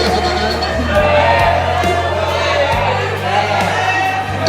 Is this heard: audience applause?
yes